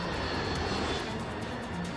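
Airliner engines of Flight 191 as the plane loses altitude, a steady, dense aircraft engine roar that fills the whole moment without a break.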